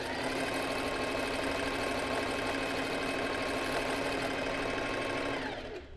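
A sewing machine stitches freehand embroidery at a fast, even needle rhythm, a close mechanical whir and chatter running without pause before stopping at the very end.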